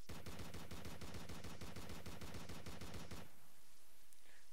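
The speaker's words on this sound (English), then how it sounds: "Underwater rifle is still extremely powerful." Underwater rifle firing in a video game: a loud, rapid, evenly spaced burst of shots lasting about three seconds, then abrupt quiet with faint game ambience.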